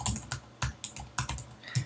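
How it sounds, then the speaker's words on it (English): Fingers tap keys on a computer keyboard with quick, soft, irregular clicks about every half second, close and fairly quiet, with no voices. "you're going to type in your first and last name"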